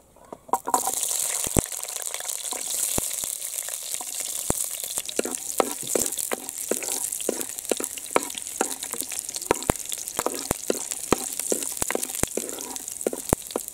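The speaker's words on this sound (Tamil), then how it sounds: "எண்ணெய் சூடாயிடுச்சு பூண்டு போட்டுக்கலாம்" Garlic sautés in hot oil in a pan, giving a steady, loud sizzle broken by frequent sharp crackles and pops that go on throughout.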